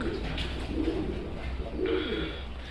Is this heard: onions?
no